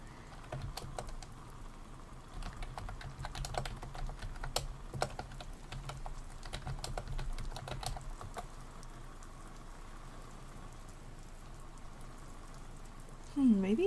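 Faint, quick clicks of typing on a computer keyboard come in irregular bursts, with quiet soft sounds behind them, followed by a stretch of low hush.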